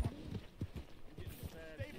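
Horse hooves in Red Dead Redemption 2, a quick steady clip-clop of a galloping horse at moderate distance, rhythmic thuds running throughout alongside faint voice sounds.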